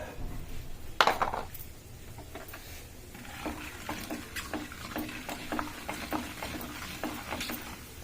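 Urad dal and other lentils dry-roasting in a pan for a sun-dried tomato pickle, with a close metallic scrape and clatter early on, then steady soft rustling and stirring scrapes continuing throughout.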